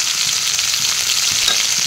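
Fish pieces seasoned with salt, chilli powder and turmeric frying in a pan for a fish curry, a steady close broadband sizzle with no gaps and nothing else over it.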